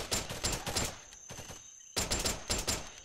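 Rapid bursts of gunfire in a military shooter, Section 6 on a Columbia campaign mission, fired at an enemy: two clusters of sharp, close automatic shots separated by a brief quieter gap.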